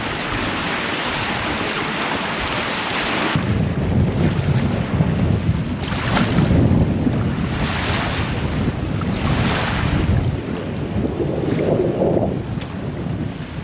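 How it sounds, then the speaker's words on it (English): Strong wind gusts across a lake in Maine's North Woods, pushing whitecapped waves into a steady roar of rushing air and surf, with heavy buffeting on the microphone and no voices. "now the wind is picking up. Yep, it's pretty windy out there,"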